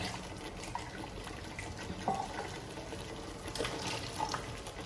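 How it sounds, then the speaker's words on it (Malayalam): Water runs and trickles steadily, pouring into a pot of chicken curry, with a few faint clinks over a continuous liquid wash. "അപ്പോൾ നമ്മൾ അരച്ച വെള്ളം കൂടെ ഇതിൽ കുറച്ച് ആഡ് ചെയ്യുന്നുണ്ട് കേട്ടോ"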